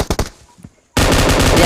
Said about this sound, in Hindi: यहाँ पर मशीन गन पकड़ी हाथ में और चल दिया रश करने के लिए